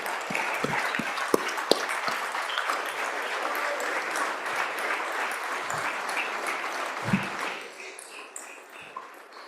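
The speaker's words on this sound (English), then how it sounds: "Keep giving a round of applause." Sustained applause fills a House floor session chamber, a dense steady wash of clapping with a few sharp louder claps early on, then thinning and fading toward the end.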